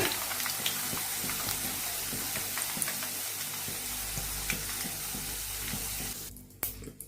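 Boondi frying in hot oil for homemade mixture, a dense steady sizzle with light clinks of a scoop, ending in a brief clatter and splash of water near the end.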